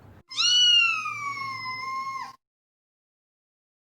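A cat gives one long, drawn-out meow, close and clear, that lasts about two seconds before falling to silence.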